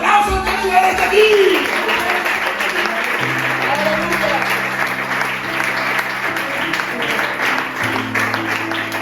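Applause from a church congregation during a sermon, a steady dense wash of clapping over the whole stretch, with musical tones and talk underneath.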